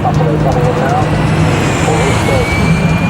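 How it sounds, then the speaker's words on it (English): A modified 1980 DHC-5 Buffalo utility transport plane drones loudly and continuously, a steady roaring engine wash with a faint rising whine, and a voice speaks over it. "One of the planes being showcased is a modified 1980 DHC-5 Buffalo, a utility transport plane known for its ability to land and take off using very little runway."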